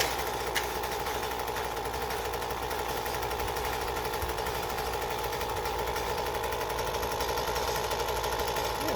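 A shabby old Ryobi 2-cycle rototiller engine idles steadily, a continuous buzzing drone with a rapid, even firing rhythm that holds close and constant throughout.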